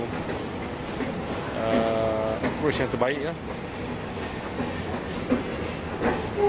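MRT train rolling past near Kajang stadium in Selangor, with a steady rumble, rail squeal and clicking wheels under someone talking throughout.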